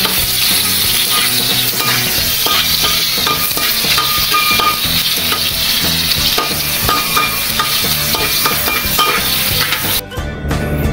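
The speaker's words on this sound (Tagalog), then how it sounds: "Magbukod kayo ng mantika, bagong mantika, para sa pagigisa ng sibuyas na puti" White onion sautés in fresh cooking oil for pork steak, a loud, steady close-up sizzle and crackle with clinks of a utensil stirring in the pan, cutting off abruptly near the end.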